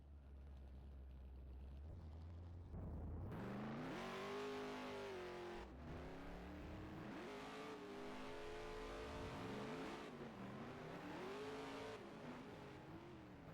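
Modified and saloon race cars competing in a nine-car North Island championship race, engines revving hard through repeated gear changes as they accelerate past, loud and continuous with no talk.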